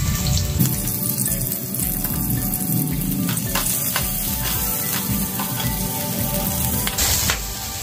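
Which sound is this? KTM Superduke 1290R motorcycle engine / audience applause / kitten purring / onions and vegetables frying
onions and vegetables frying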